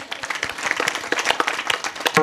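Audience at a kirtan gathering clapping together, a brief burst of dense, close applause.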